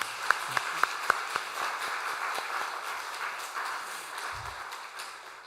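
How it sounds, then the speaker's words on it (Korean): Church congregation at an afternoon worship service clapping in encouragement for a six-man men's choir, a few sharp claps up front swelling into a steady, moderately loud wash of applause. "우리 제2남성교회 위해서 우리 격려의 박수 드리도록 하겠습니다"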